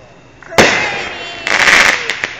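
Aerial firework shells from a 12-count consumer cake burst loudly nearby, a sharp crackling bang followed by a second cluster of crackling bursts and pops in the open air.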